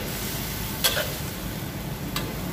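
Bitter gourd fries in a pan with a steady, close sizzle, broken by two brief scraping strokes of a utensil stirring it, with no voices.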